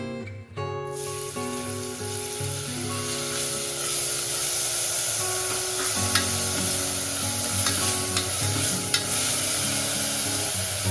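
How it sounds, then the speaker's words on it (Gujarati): Finely chopped onions hitting hot oil for Vadodara-style sev usal, a sudden loud burst of sizzling that settles into a strong, continuous fry with occasional spatula scrapes, close up and alone. "હવે આપણે ઓઇલમાં આ જે ડુંગળી ઝીણી સમારેલી છે તે એડ કરીશું"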